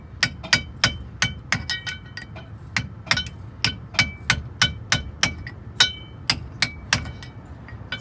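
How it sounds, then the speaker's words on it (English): A steel hammer strikes a big dull chisel in sharp, ringing blows, about twenty in a steady rhythm. It is close and loud, the work being done on a GM 4106 bus restoration. "Just enough to get that started, and then get a chisel in it."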